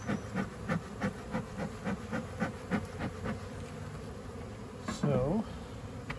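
A dense, close buzz of many bees humming continuously, with soft pulsing rises and a brief scraping sound near the end.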